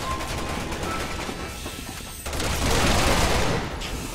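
Rapid gunfire crackles in the shooter game Resident Evil 6, a dense burst of overlapping shots that continues loud and close over a busy noisy background.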